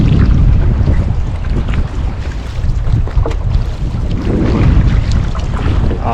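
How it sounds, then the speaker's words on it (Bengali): Strong wind blows across a rowing boat on open water near Doladanga at sunset, a loud, constant roar of rushing air and microphone buffeting with water sounds beneath and no voices. "এখন প্রচুর বাতাস উঠেছে"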